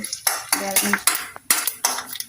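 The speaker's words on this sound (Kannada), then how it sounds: "ಈಗ ಒಗ್ಗರಣೆ ಹಾಕ್ತಾಯಿದೆ" Curry leaves and spices crackle and spatter in hot oil in short bursts, mixed with metallic clinks of a spoon against the pan.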